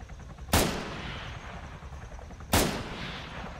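Video game gunfire: two sharp, loud single shots about two seconds apart, each with a booming tail decaying over a steady noisy backdrop.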